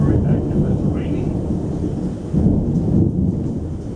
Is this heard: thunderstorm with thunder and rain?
yes